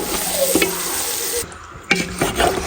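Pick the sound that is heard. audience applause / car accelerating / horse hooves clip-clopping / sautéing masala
sautéing masala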